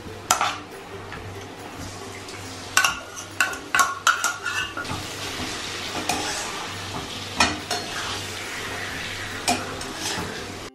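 Meat marinated with spice powders and oil is stirred into frying onions in a pot. Repeated metallic scrapes and clanks of the spoon sit over a steady sizzle, with no talking.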